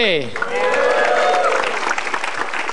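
A stand-up comedy crowd applauds comedian Bintang BT, steady and loud throughout, with a sweeping musical sting or jingle rising over the clapping in the first moments.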